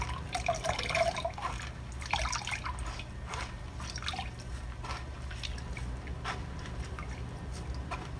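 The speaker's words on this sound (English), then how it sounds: "I'm going to add a little bit more water and keep on trying to get all the milk out" Coconut milk drips and trickles through a strainer as grated coconut soaked in water is squeezed by hand, a faint, steady patter of liquid with a few louder splashes early on.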